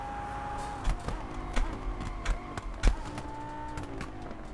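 Car racing in Test Drive Unlimited Solar Crown, with a steady engine drone and a shifting tone as the car slows into a braking zone. Several sharp thumps punctuate the sound, moderately loud.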